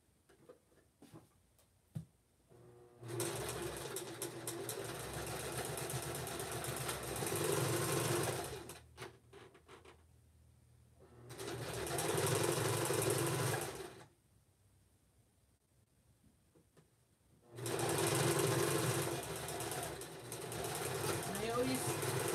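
A sewing machine runs a straight stitch on sweater mittens in three separate bursts of rapid, even mechanical whirring, each several seconds long, separated by quiet pauses with small clicks and handling noises.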